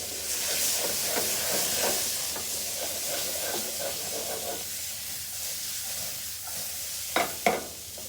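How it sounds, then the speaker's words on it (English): Onions and peppers sweat in a pan with a steady, moderate sizzle. Soft stirring scrapes recur, and two sharper clacks from the utensil come near the end. "I just got the onions and the peppers going."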